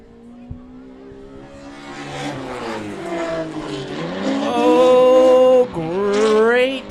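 A Toyota Corolla drift car launches its run at a drift championship, the engine revving up in rising, howling pulls, growing louder with tyre squeal as it accelerates.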